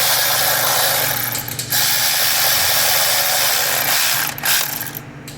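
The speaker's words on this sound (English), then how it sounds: "I'm gonna get my ratchet out here and just tighten down all 7 of these bolts" A hand ratchet snugging down the seven timing belt cover bolts on a Honda Odyssey, a steady close, loud clicking that runs almost without pause, with two brief breaks as the tool is reset.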